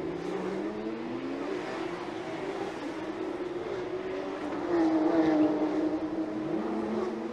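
Race car engine at a Cup Azie 2017 race, a distant droning whine that rises and falls as the car accelerates, swelling louder near the end, heard without talk.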